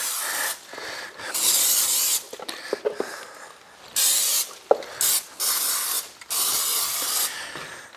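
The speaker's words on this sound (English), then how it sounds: "Okay, got it all covered in Pam." Pam cooking spray hisses onto raw chicken skin in repeated bursts, each lasting about a second, separated by short pauses and faint handling clicks, with no talking.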